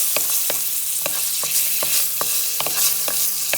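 Ingredients heat in a pan, giving a constant bright sizzle over which a utensil scrapes and taps against the pan in a regular rhythm, roughly every half second, close and fairly loud, with no voices.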